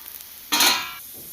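A masala akki rotti sizzling on a pan over a medium flame, a sudden close burst of frying hiss lasting about half a second before settling back to a faint background sizzle.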